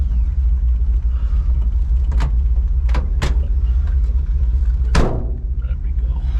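A 1952 GMC pickup truck heading out for a drive, its engine giving a steady low rumble throughout with a few brief sharp clunks and creaks from the cab, recorded from inside.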